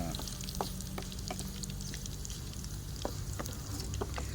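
Holy basil leaves deep frying in hot oil, a steady close sizzle with scattered small pops and crackles, no talking.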